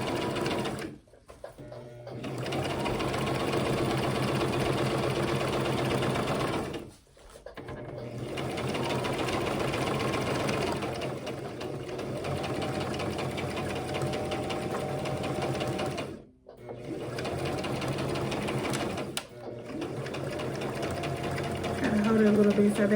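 A sewing machine runs a straight stitch along the edge of ruffle socks, a close, steady mechanical whir that runs for several seconds at a time and halts briefly three times, with a voice talking over it.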